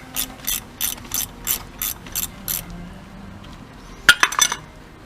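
Ratchet wrench loosening a nut on the suspension of a Renault Scenic, a run of about eight quick, loud, evenly spaced clicking bursts, then a brief metallic clink and rattle close by.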